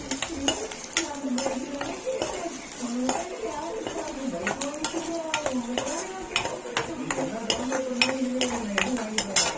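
A cracked egg is stirred into rice in a pan, with a spoon repeatedly scraping and clinking against the metal in a quick, uneven rhythm while a person talks over it.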